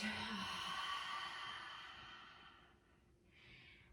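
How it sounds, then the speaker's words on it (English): A long, breathy exhale during a yoga session, a soft rushing breath that slowly fades out, followed by a faint, short inhale, close and quiet. "Inhale here. And then exhale everything out."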